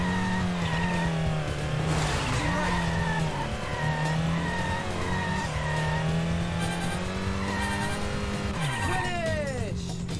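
A rally car racing in Sega Rally Championship on PS2: a steady, loud engine drone rises and falls through gear changes, with tire squeals near the end and someone talking over it.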